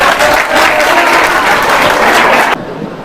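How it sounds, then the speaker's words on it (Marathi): Loud, dense applause from a quiz audience rewarding a correct answer at an MPSC Chalta Bolta show in Yavatmal. It rolls on steadily for about two and a half seconds, then drops abruptly to a softer murmur. "दादांचं उत्तर अगदी बरोबर आहे जोरदार टाळ्या होत्या"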